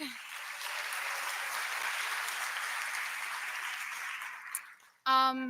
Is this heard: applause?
yes